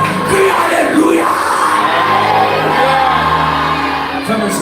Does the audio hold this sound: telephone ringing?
no